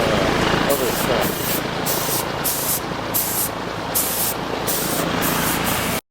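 Rust-Oleum spray paint hisses steadily from a can onto a car, a loud continuous airy spray with brief rhythmic dips, ending abruptly.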